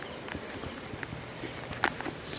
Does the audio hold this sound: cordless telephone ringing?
no